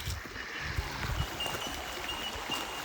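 Steady broadband rush of flowing water, like a shallow creek running close by at a creek crossing in Mt Barney National Park, with a few low thumps near the start.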